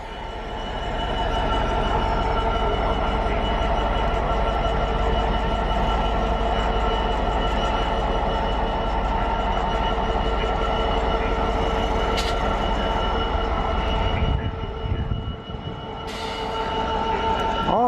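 A freight train of ballast wagons rolls past close by, a loud, steady rumble of wheels on track lasting throughout, with brief squeals and clanks near the end as the wagons go by.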